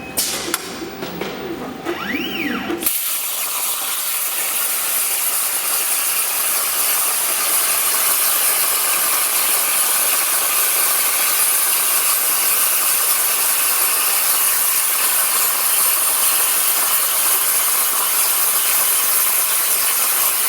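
Swifty 1250 plate beveling machine cutting a bevel along steel plate, a loud steady grinding hiss with a mechanical whir that runs continuously after a brief quieter start.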